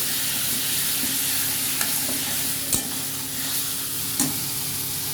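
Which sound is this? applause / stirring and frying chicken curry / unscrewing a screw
stirring and frying chicken curry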